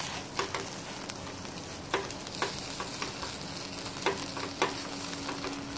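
Salsa and peri peri sauce are mixed in a hot pan, a continuous soft sizzle broken by regular spoon taps and scrapes against the pan, close and unaccompanied by talk.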